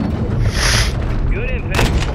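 Gunfire and artillery strikes from Call of Duty MW3 during a ground battle in a boneyard, heavy booms and rattling shots rolling under radio chatter, with a sharp loud impact near the end.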